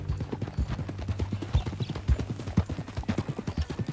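Horse hooves in Red Dead Redemption 2 clip-clop in a quick, steady trotting rhythm, close and continuous, with faint background game sound beneath.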